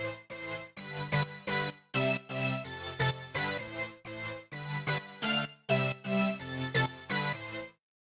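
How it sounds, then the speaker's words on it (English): Simple major and minor synth chords in PC music style, bright stacked tones played as repeated stabs in a steady rhythm with short gaps between groups, clear and alone. "the first sound we have here are these chords"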